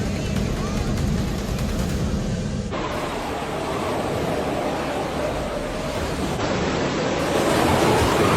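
Storm waves pound the Viking Sky cruise ship after its engines failed at sea, a loud, continuous roaring wash of water and wind that surges heavier partway through and never lets up.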